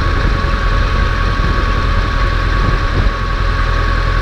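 A motorcycle engine idles in neutral while the bike is backed up, giving a loud, steady, low rumble with a constant hum and no break.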